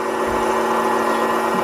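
A wood lathe spins a wooden egg at about 1200 rpm, giving a loud, steady motor hum with a constant tonal drone and no break, close up and without voices.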